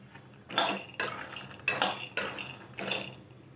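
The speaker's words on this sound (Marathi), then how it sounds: "आता इकडे शेंगदाणे भाजून घेणार." Peanuts roasting in a pan over low gas heat, with a spoon scraping and stirring in four distinct bursts and a quiet pause between each stroke.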